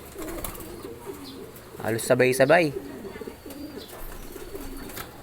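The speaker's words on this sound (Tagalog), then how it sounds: "Ayan mga ibon natin, oh." Released racing pigeons arriving home in San Ildefonso, with soft cooing and brief wing flutters around a short burst of nearby activity, under occasional talk.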